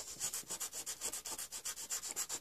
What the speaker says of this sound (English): just use some 220 grit sandpaper on the end of this blade